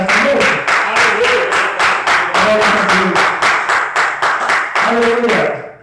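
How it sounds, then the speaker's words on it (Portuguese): A church congregation claps in praise at a New Year's night service, a loud, steady rhythmic clapping with voices mixed in, fading out at the end. "Você pode dar salve de palmas para o Senhor nessa noite?"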